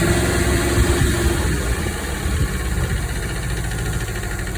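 A John Deere 650 tractor engine runs at a steady loud idle with a rough, knocking low rumble that stays even throughout, heard close and alone.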